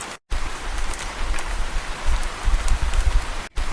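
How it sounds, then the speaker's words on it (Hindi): Heavy rain pours steadily through a forest in a cartoon scene, a dense, even hiss with a low rumble and no voices, broken by two brief silent gaps. "दूर किसी जंगल में बहुत तेज बारिश हो रही थी।"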